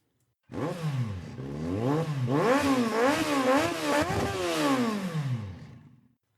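A motorcycle throttle revving sound effect: a single engine swelling from idle into several rising and falling revs, loud and close, then dropping away, with no talking.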